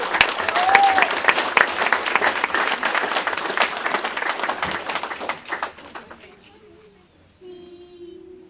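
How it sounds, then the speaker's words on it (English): Sustained crowd applause at a youth sports awards gathering honoring a 6U cheer team, loud and dense for about six seconds, then fading out to quiet murmurs and a short tonal sound. "Give them a round of applause."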